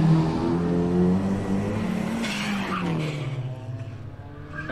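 A car in a gymkhana run sliding with the handbrake locked, a loud engine drone and tyre scrub that swells then fades, nearby and without voices.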